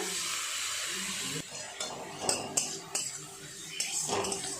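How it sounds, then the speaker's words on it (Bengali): Ginger garlic paste and onion paste stirred in a pan with a metal utensil, bright scrapes and clinks knocking against the pan in uneven bursts over a faint sizzle, fairly quiet and close. "আর একটু নেড়ে চেড়ে নেব এইভাবে আদা রসুনেরও কাঁচা গন্ধটা চলে যাওয়া পর্যন্ত"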